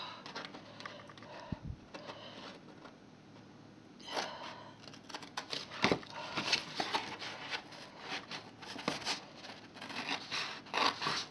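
Scissors cutting through folded paper envelope flaps, with close snipping and scraping in irregular bursts that grow busier and louder partway through.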